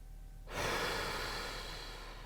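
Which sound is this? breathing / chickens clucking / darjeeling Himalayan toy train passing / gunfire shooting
breathing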